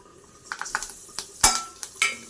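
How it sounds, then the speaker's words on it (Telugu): Urad dal, chana dal and dried red chillies go into hot oil for tempering. Short crackles and clinks of the pan and spoon come in bursts, with one sharp louder hit midway. Nearby and alone, with no voices. "ఆయిల్ హీట్ అయింది, ఇప్పుడు పోపు దినుసులు అన్నీ వేసేసుకుందాం"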